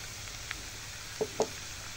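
Ginger, garlic and cumin paste fries in hot oil with a steady soft sizzle, broken by a few brief clicks and scrapes of stirring, fairly quiet throughout.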